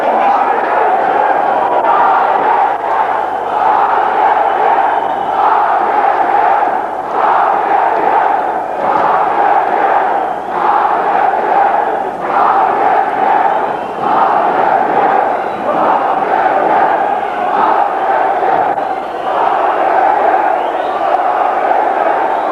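Crowd of demonstrators marching through a gate up to a building, a loud, continuous roar of many voices shouting and chanting in surging waves, heard up close and unbroken throughout.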